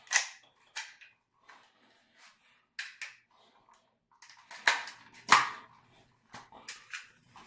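A Mauserfire toy blaster fires Pak-D darts, a series of sharp, close snaps spaced irregularly over a few seconds with faint mechanical clicks between them.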